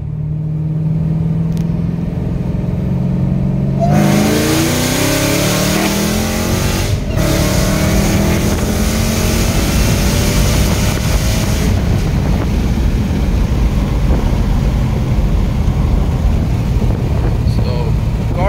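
A Dodge Hellcat engine at full throttle in second gear from 40 mph, running 16.8 psi of boost, roars under hard acceleration, pitch climbing steadily with a gear shift partway through, loud and close with heavy wind buffeting.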